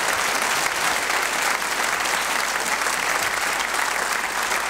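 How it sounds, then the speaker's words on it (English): Theatre audience applauding as volunteer Simon comes up the steps to join a performer on stage, a loud, sustained, even roar of clapping from a large crowd. "Give Simon a big round of applause, ladies and gentlemen."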